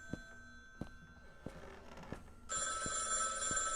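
A telephone rings in a horror video game, beginning midway as a steady, loud bell tone after several heavy footsteps and thunks, with the footsteps continuing under the ringing.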